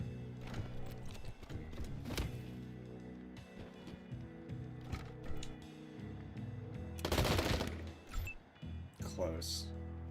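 Bursts of gunfire from the Wasteland 3 video game crackle repeatedly under ongoing speech and busy game sound, with a denser, louder volley near the end.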